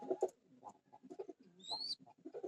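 Pigeons coo softly at close range, with a series of short rounded coos and a brief higher chirp near the end, fairly quiet overall.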